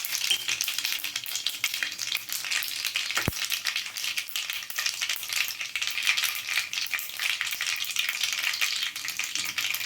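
Cumin and coriander seeds fry in hot oil with a steady, soft crackling sizzle, broken by one sharp click partway through; no voices.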